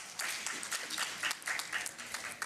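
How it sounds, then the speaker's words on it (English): Conference audience at a Pan-African education conference applauding a panelist, a steady wash of many hands clapping at moderate distance, fairly soft and continuous throughout. "Encore des applaudissements pour Dr 𝗧𝗵𝗿𝗲𝗲."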